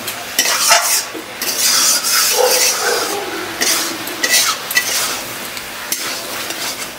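Carrot, eggplant and onion sautéed with spices in a pan, with loud, continuous sizzling and repeated scraping and clinking of a spatula against the metal, heard up close.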